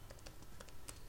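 Light keyboard typing in a quiet room, a few soft scattered keystrokes tapping irregularly over about a second, faint and close.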